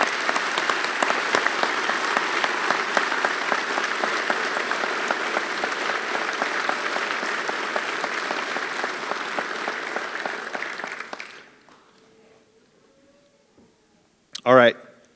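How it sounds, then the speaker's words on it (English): Dense, steady audience applause fills a law enforcement academy graduation ceremony in Montana, lasting about eleven seconds before fading into quiet room tone, with a brief voice at the end. "A round of applause, please."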